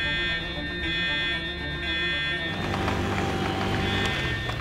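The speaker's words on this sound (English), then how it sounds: "The alarm's going." An electronic alarm tone sounds steadily throughout, with a busy clattering of activity building up beneath it partway through.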